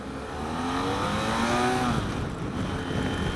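A 2016 BMW F 800 GS Adventure motorcycle engine revs up steadily through the gears, its rising drone climbing and then dropping off abruptly before settling into a rougher, steady hum.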